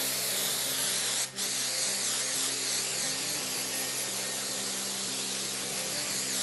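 A steady, loud hiss of spray adhesive from an aerosol can runs continuously, with one brief break early on.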